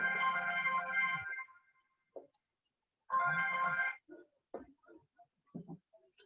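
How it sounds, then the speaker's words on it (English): A phone ringtone goes off loud and close during a lecture, with two bursts of a bright, tonal melody separated by a pause, followed by a few faint clicks and brief knocks. "Somebody called my phone."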